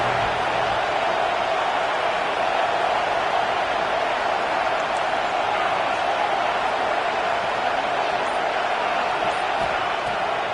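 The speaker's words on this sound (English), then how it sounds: "Listen to this crowd just shaking the girders of this place, trying to help their defense." Football stadium crowd roaring steadily to back the home defense, a dense, sustained wall of cheering and noise that fills the whole stretch without letup.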